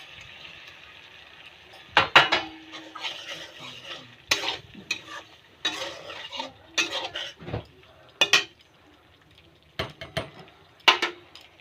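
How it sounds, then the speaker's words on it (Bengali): Pointed gourds dropped into a pan of cooked spice paste and stirred, giving repeated sharp clanks of a spoon against metal over a steady sizzle, close and clear. "আমি এখন পটলগুলি ঢেলে দেবো"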